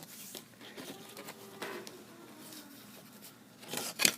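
Scissors snip through 1.5-inch grosgrain ribbon in short, quiet cuts at close range, with a louder snip near the end and no talking.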